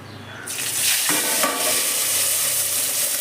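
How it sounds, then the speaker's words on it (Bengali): Pabda fish frying in a pan with mustard paste, a loud sizzle that bursts in suddenly and then holds as a steady crackling hiss with a few sharper spits. "এই মাছ দুটোকে আমি একইভাবে ভেজে নিই"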